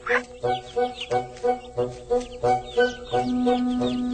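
Several chickens cluck in a steady, repeated rhythm close by, with a longer drawn-out call near the end.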